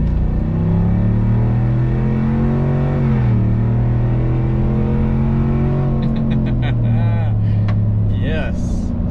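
A Chevrolet Trail Boss truck with quad-tip exhaust drones steadily with deep exhaust rumble, its pitch climbing as it accelerates onto an interstate, then shifting and revving higher near the end.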